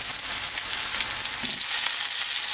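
Hamburger patties sizzle and crackle in a hot pan, a loud, dense frying hiss that continues steadily without talking.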